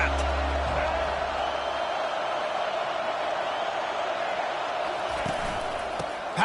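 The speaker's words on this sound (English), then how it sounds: "They challenge this crowd to bring the energy, and I'd say they're doing that." Stadium crowd roar from the college football video game NCAA 25, a steady, dense wash of cheering that stays loud for the whole stretch with a low rumble at the start, under no clear talk.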